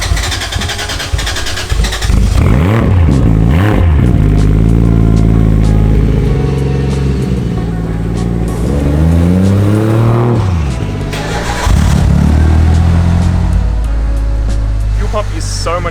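A turbocharged Mitsubishi Lancer with a 4G15 engine revs hard several times, its loud pitch sweeping up and falling back between pulls over a rough idle, heard close up inside the car while people talk over it.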